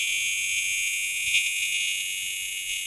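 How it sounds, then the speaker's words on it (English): A building fire alarm sounds nonstop as a steady, shrill buzzing tone at a constant level throughout, with faint low room noise underneath. "There's a fire alarm happening right now."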